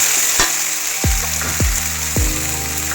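Local chicken meat frying with whole spices in a pan, a loud continuous sizzle close up, broken by a few low thuds and bubbling swells.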